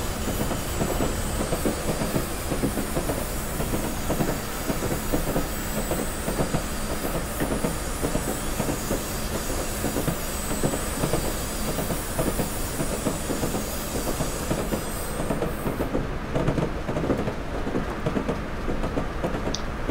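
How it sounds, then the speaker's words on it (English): Hornby TTS Duke of Gloucester model steam locomotive with sound, running on a layout, a continuous hissing chuff and rhythmic rail clatter, steady and close throughout before thinning at the end. "We picked up the Hornby TTS Duke of Gloucester."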